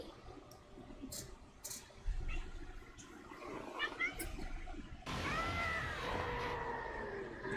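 A cat meows, with a drawn-out vocal cry in the second half standing out clearly over a quiet background of scattered short noises.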